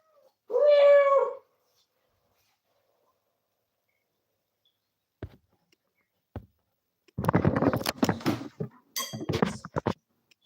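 A cat gives one clear, close meow, followed by a long quiet gap with a couple of faint clicks, then a burst of rustling, clinking handling noises in a tackle room.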